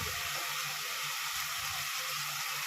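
Water poured into a pan of cooked pasta with Maggi masala, a steady broadband hiss of pouring and light sizzling that holds for the whole moment, close and even, with no talking.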